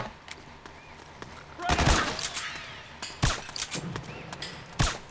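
Loud bursts of automatic gunfire in the Metal Gear Solid 4 video game, with sharp volleys and single shots breaking over a busy combat background.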